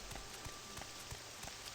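Rain falling in the video game Morrowind, a soft, steady hiss with faint scattered pattering drops, quiet and continuous with no talking.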